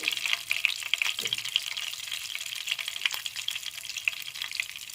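Steady, dense sizzling of cauliflower frying in hot oil in a pan for a vegetarian yogurt cauliflower curry, with small pops and crackles crowding a close, continuous hiss and occasional stirring.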